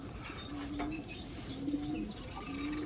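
A racing pigeon breeder bird makes soft, low cooing calls, three short coos at a near distance over faint background noise, with a few light chirps mixed in.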